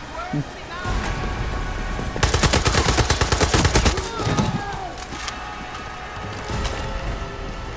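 A gun fires in a video game in rapid automatic bursts, loud and close, with a dense volley in the middle among scattered single shots and game noise, while a voice talks over it.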